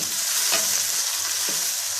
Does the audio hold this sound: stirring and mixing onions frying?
yes